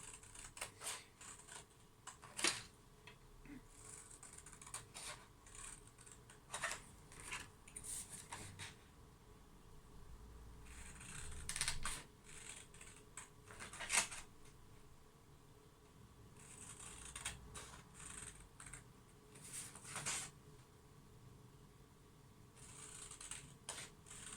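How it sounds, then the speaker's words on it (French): Scissors cut through card to make a box, giving irregular crisp snips and clicks, close and quiet, with no voices. "Donc je le fais au ciseau."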